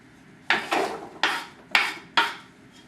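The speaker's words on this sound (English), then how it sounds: "So I'm going to stir that around, get that going on the bottom of the pot" Oil stirred across the bottom of a pot before lentil soup vegetables go in, five distinct close scraping strokes of a utensil against metal in a steady rhythm, no voices.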